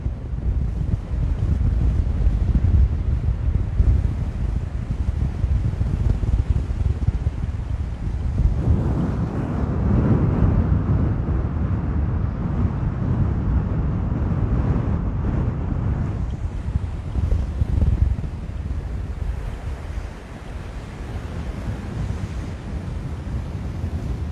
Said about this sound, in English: But boy, is it windy.